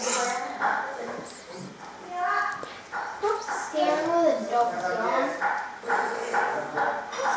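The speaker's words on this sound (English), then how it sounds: "I feel like this dog is trying to kill me." A Minecraft dog or wolf barks, yips and whimpers in short bursts, mixed in among lively speech from players talking over it.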